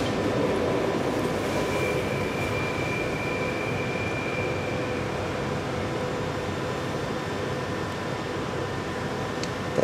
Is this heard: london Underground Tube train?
yes